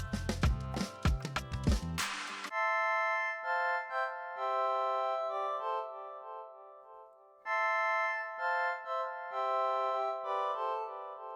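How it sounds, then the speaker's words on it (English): Accordion 2 preset from the free Purity plugin playing a sustained reedy melody with held chords and phrase breaks, entering after a short burst of a busier beat, soft and clean throughout. "So the preset, it's accordion 2"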